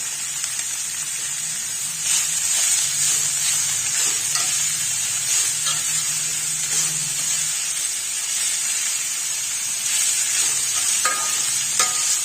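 A cabbage and rice mixture sautés in a pan over low heat, giving a steady soft sizzle and hiss throughout, with occasional stirring scrapes and clinks.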